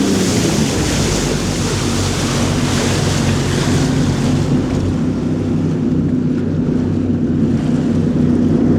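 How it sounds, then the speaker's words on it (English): A loud, steady low rumble of a large powerboat engine on the Niagara River, blended with rushing water and wind buffeting the microphone, continuous throughout. "You gotta check out some of these boats that are coming down the Niagara River"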